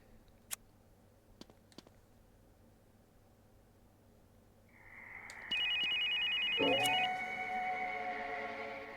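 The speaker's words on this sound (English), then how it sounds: "Who is belling my phone?" In The Sims 2 on PSP, a phone starts ringing midway after a few faint clicks, a steady electronic ring that holds loud and close to the end over a low background hiss.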